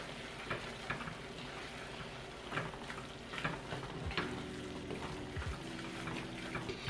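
Ground beef cooks in a pan with about two tablespoons of flour added to thicken it, a soft steady sizzle with scattered clicks and scraping stirs, fairly quiet and close with no talking.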